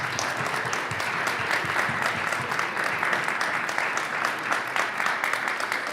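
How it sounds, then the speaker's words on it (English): A large audience at a World Youth Day community event applauds as guests from a L'Arche community come on stage, dense, continuous clapping that stays loud and even from start to finish. "If you could please come up and give them a round of applause"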